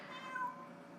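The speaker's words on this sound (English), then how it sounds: "That's my cat." A pet cat gives a single soft, drawn-out meow, faint and somewhat distant, heard alone in a quiet room.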